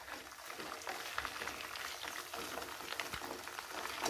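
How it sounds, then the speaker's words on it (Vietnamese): Pieces of catfish sizzle and bubble in hot oil in a pan, a dense continuous crackling hiss with small pops throughout, fairly close and steady, no speech heard. "Dầu sôi mình để cá vô mình chiên sơ."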